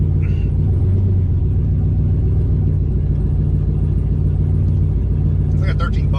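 A 4.8 truck engine with boost idles in a steady, low rumble that runs throughout, running slightly rich, with a faint higher sound near the end.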